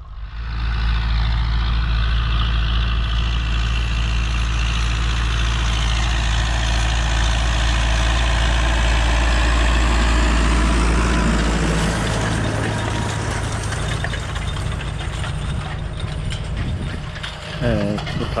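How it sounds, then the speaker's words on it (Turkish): Massey Ferguson tractor engine idling in a field at sowing time, a steady low diesel rumble with mechanical rattling, close and continuous, shifting in tone near the end. "Nereye baksan traktör."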